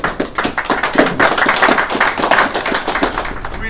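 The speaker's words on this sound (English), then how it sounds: "Give yourselves a big round of applause." An audience claps for a few seconds, close and lively, with individual hand claps standing out in an uneven rhythm.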